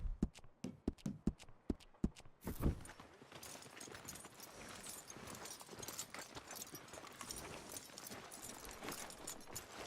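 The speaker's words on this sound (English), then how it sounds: "Are you gonna mount that new horse of yours or not?" Horse hooves clip-clopping in Red Dead Redemption 2, a run of sharp, evenly spaced hoof strikes near the listener at first, then fading into a steady dense rumble of galloping with ambient noise.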